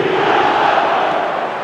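Loud, dense roar of a football stadium crowd at a Barcelona match, voices massed into a steady, sustained chant and call that fills the whole moment without a break.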